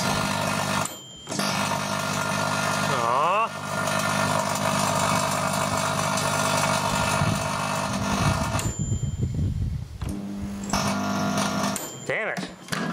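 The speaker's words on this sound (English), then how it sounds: "And then the magnetron's arcing out there." A microwave magnetron arcing produces a harsh, sustained electrical buzz with a rising whine partway through. It cuts out briefly twice and shifts in tone near the end.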